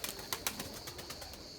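Purebred white Erzurum pigeon chicks coo and chirp softly in short, repeated bursts, faint and close, with no one talking.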